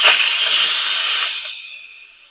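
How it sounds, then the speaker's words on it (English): Steam hisses loudly from a pot of cooking yellow squash as the lid vents, a sharp close rush that holds steady then fades away over about two seconds. "I'm fixing to let the steam off."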